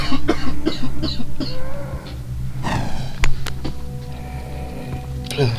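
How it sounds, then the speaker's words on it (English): A person has a coughing fit: a rapid burst of harsh, close coughs at the start, then scattered throat-clearing and a few more sharp coughs over the following seconds, with brief quieter gaps. "I'm feeling a coughing fit coming on"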